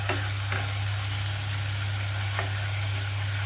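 Spices and turmeric frying in a pan give a steady close sizzle, with a few sharp spattering pops over a constant low hum.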